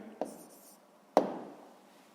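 A pen writing out the answer to a sixth-grade maths equation gives two brief, close scratching taps about a second apart, each fading quickly in a quiet room.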